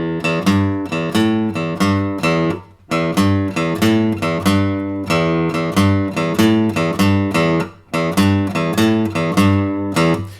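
A beginner guitar lick, played as repeated short riffs of plucked notes and chords in a steady rhythm, loud and close, with brief pauses between phrases and no talking.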